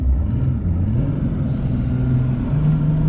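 A Mercury 225 outboard engine on a 2004–2005 20-foot Ranger bass boat revs under foot throttle, giving a loud, steady, close rumbling drone that holds strong for a few seconds.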